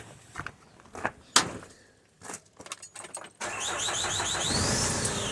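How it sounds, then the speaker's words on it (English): Keys jangle and a couple of clicks and thumps, then an engine cranks and catches, settling into a steady running hum. "So I'm going to start the car."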